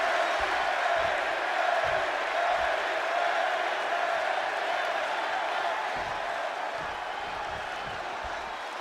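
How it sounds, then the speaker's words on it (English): Arena crowd cheering in Chicago from the WWE 2K26 wrestling game, a steady dense roar with scattered whoops and claps, loud and continuous, fading slightly toward the end with no talk over it. "And just listen to this crowd here in Chicago."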